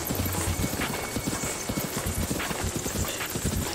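Horse hooves galloping at a steady rapid clip-clop in the Zelda: Breath of the Wild video game, loud and continuous against a dense game background, with a faint whinny mixed in.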